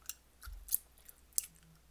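A few quiet, sharp snips of scissors cutting, spaced irregularly, in an otherwise still room.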